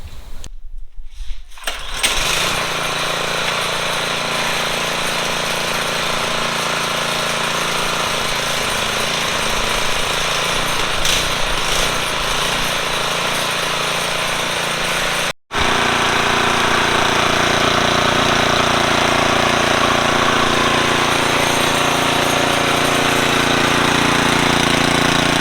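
An MTD Yard Machine snow blower's small engine starts and runs at a loud, steady drone, cuts out abruptly for a moment partway through, then resumes running as it burns through the last of its gas.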